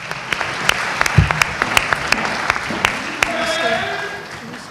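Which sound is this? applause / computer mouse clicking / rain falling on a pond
applause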